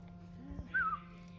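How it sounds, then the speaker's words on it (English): A single short, high-pitched dog whine that slides downward, faint and brief, over a low steady background hum. "That's Viper's dog."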